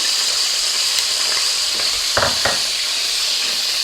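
Garlic sizzles in hot oil with soy sauce in a pan, giving a steady close hiss broken by a couple of sharp spattering pops, with no talking.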